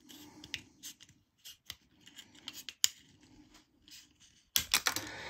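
Crisp scissor snips trimming a plastic model aircraft part, with small plastic clicks, scattered and irregular, close by in a quiet room, with a louder burst of clattering near the end.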